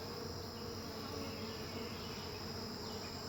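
Honey bees linger around a newly installed hive box, their faint, continuous buzzing hum blending into a steady insect drone with no talking.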